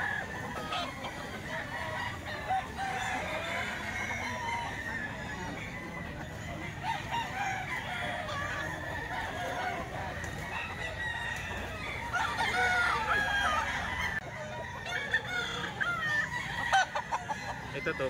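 Young gamecock roosters, bull stags, crowing and clucking over a busy farmyard din, several birds overlapping at moderate distance, fairly faint and steady.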